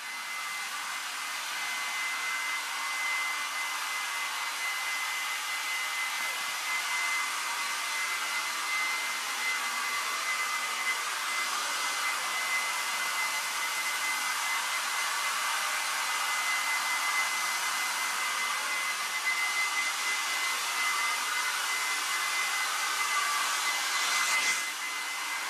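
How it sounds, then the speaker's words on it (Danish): A hair dryer runs steadily in a bathroom, drying hair with a continuous, even, moderately loud whooshing hum for the whole stretch and no voices. "tør hår i badeværelset"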